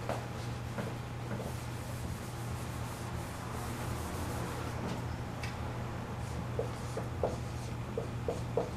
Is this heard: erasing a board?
yes